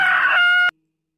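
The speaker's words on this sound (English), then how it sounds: "H for hen" A hen clucks and crows in one short, loud burst lasting under a second, then the sound cuts off abruptly into silence.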